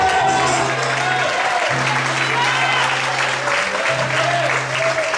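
Church congregation clapping along, dense steady applause with a pulsing low hum underneath, fairly loud and continuous throughout.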